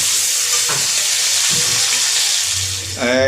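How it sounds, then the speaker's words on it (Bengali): Panch phoron and dry chillies hit hot oil in a pan with a loud, close, continuous sizzle and hiss, a few clinks of stirring, and a voice briefly beginning at the very end. "এই তেল গরম হয়ে গেছে পাঁচ ফোড়ন আর শুকনো লঙ্কা ফোড়ন দিয়ে"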